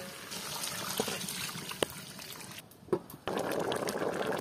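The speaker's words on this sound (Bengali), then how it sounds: "এখন দিমু গরম পানি।" Hot water is poured into a cooking pot of jackfruit biryani. It makes a close, continuous splashing trickle with a couple of brief knocks, then swells into a fuller gush near the end.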